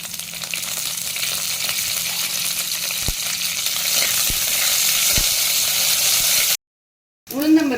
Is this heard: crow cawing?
no